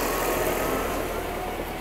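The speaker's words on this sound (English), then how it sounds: "I have to take a break every time the tractor needs to go by." A tractor rumbles past close by during garden paver installation work, a loud, steady low engine drone that fills the whole moment and fades slightly toward the end.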